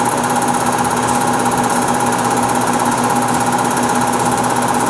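A 2.5-inch fly cutter milling metal on a PM-950V milling machine gives a loud, steady, continuous machining drone with a rapid repeating chatter, close and uninterrupted throughout with no voices.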